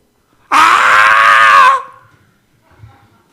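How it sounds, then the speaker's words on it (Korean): A child screams once during a church service, a loud, sustained, piercing cry lasting just over a second that then cuts off into near silence. "한번 소리 질러 볼래?"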